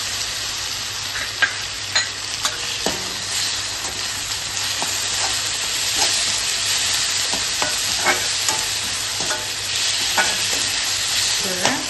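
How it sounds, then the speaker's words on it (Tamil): Ginger garlic paste sizzles steadily in a pan of frying onions while cooking semiya, a constant close hiss broken by occasional scraping stirs. "நம்ம எடுத்து வச்சுருக்கேன் இஞ்சி பூண்டு பேஸ்ட் அதில் போட்டுருவோம்."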